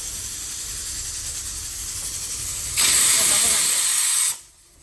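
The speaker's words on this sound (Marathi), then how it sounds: "तुम्हाला व्हिडिओमध्ये शिट्ट्या मारत आहे बघा माझं कुकर" A kitchen pressure cooker whistle vents steam in a loud, continuous hiss that grows harsher and brighter partway through, then stops abruptly, leaving quiet room noise.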